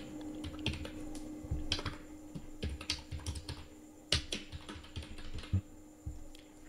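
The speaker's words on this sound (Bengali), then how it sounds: "এখানে ফাদার নেমটা আমি টাইপ করে নিচ্ছি।" Someone types on a computer keyboard at close range, with bursts of quick irregular key clicks and a few heavier keystrokes over a faint steady hum.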